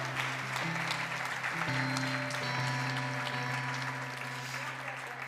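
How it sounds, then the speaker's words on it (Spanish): A church congregation applauds in a sustained wash of clapping while organ or keyboard chords ring and shift underneath, both staying loud and even throughout. "Dale un fuerte aplauso al Señor"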